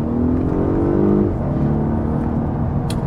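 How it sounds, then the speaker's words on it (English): Polestar 1 hybrid with a gruff four-cylinder engine, a loud steady drone that holds a rising tone then settles lower, heard close and continuous with no voices. "Oh, I didn't talk about the engine noise."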